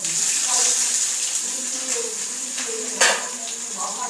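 Mustard seeds splutter in hot oil, a steady bright sizzle with light crackles and one sharper pop near the end.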